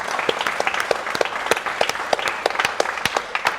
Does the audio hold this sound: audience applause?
yes